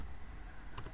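Password keys tapped on a computer keyboard running Kali Linux, a short burst of a few quiet clicks near the end over low room hum.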